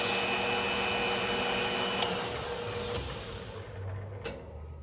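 A Dumore tool post grinder grinds a Kawasaki KZ1000 starter clutch on a lathe, a continuous high whine and hiss with a few sharp ticks, fading slightly toward the end.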